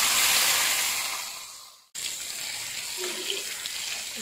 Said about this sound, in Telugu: ఇప్పుడు మనం ఒక్కొక్క ముక్కని యాడ్ చేసుకుని డీప్ ఫ్రై చేసుకుందాము.